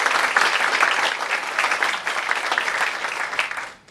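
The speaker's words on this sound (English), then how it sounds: "Can we please give a round of applause to the candidates?" Sustained audience applause for the candidates at a 95th District candidates forum, dense and steady for several seconds before tapering off at the end, with no speech over it.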